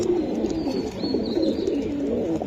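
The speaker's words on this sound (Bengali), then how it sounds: "এগুলা ভাই খুবই সুন্দর একটা কবুতর" Pigeons coo in a steady low murmur from several fancy racing and Pakistani teddy birds kept in a loft, continuous and close with faint high chirps overhead.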